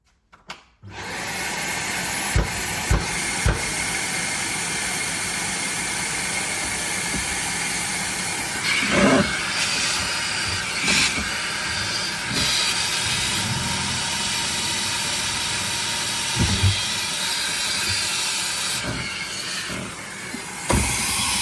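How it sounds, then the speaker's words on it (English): A steady, loud whooshing motor drone runs throughout, with a few brief knocks and bumps along the way and no talking. "let's get the vacuum."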